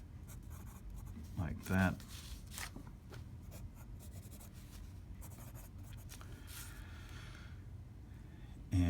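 Pen strokes scratching across paper while a molecule diagram is sketched, soft intermittent scribbles at close range under a quiet speaking voice.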